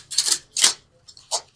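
Angel oracle cards being shuffled by hand in a few quick papery bursts, a riffle, a brief pause, then another short flick and slap, close and fairly soft with no talking.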